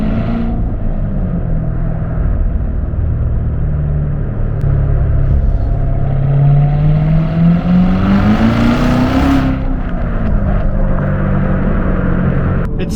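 A 2017 Corvette Z06 with a supercharged 6.2-liter V8 revs loudly, its engine note climbing steadily in pitch over several seconds before dropping off sharply, heard close up with a deep rumble and no talking.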